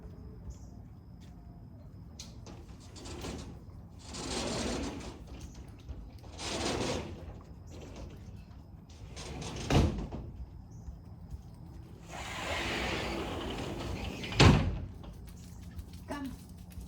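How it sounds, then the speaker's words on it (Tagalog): A door is pushed shut in a room, with scraping, sliding and rustling over about seventeen seconds and a couple of sharp knocks near the end, all fairly close. "sasarado ko muna yung pinto."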